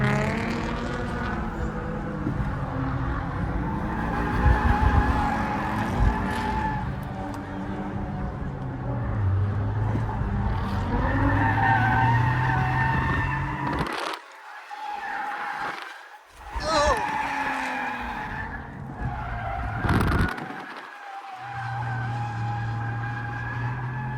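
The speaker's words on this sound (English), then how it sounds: "The way to initiate a slide with the Corolla is to either yank the e-brake while you're turning it or to flick it" An all-wheel-drive Toyota GR Corolla drifts with its engine revving hard and tires skidding. The loud, continuous roar rises and falls through the slide, with brief lulls and bursts of tire noise.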